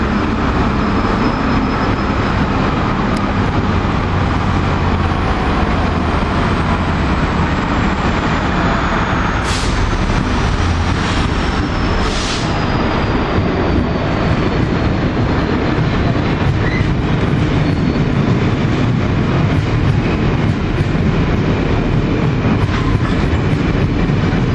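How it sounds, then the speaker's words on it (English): Freight train passing on the tracks, a loud continuous rumble and rattle of wagons rolling by close up for the whole stretch, with no one talking. "Got another freight coming down the tracks here now."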